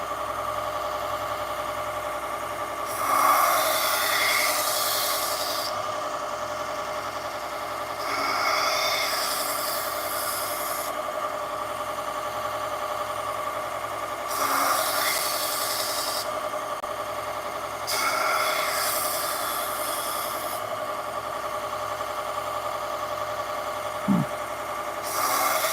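Scissors and knives being sharpened to raise a burr, long repeated rasping strokes about every five seconds over a steady low background hum, no talking.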